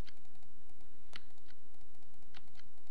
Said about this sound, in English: I keep clicking Alt and I keep alternating what I'm cloning.